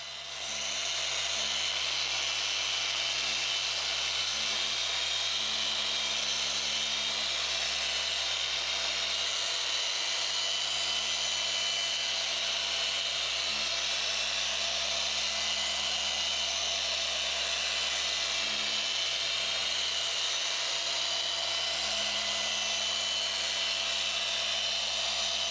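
Machine polisher running steadily on the oxidized paintwork of a Mitsubishi Evo 8, a finishing pad working polish at low arm speed; a continuous close whirring hum with no breaks and no talk.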